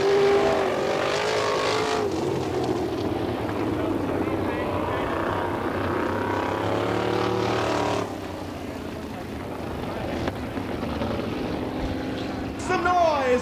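Loud 410 and 305 sprint car engines roar and rev together at a dirt track in Attica, Ohio, rising and falling in pitch as they pass, with a crowd or announcer faintly underneath.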